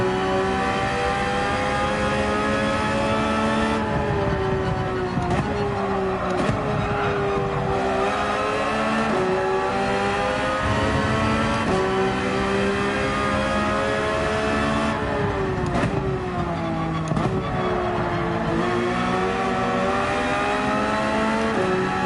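A race car engine in Gran Turismo 7 drops from fourth gear to third, its loud, steady whine stepping down and climbing again through repeated shifts, up close and alone with no talk.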